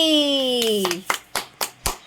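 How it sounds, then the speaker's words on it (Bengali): A few claps at a small home Rabindra Jayanti recital, four sharp separate bursts following a child's sung or chanted voice that fades out. "হাততালি"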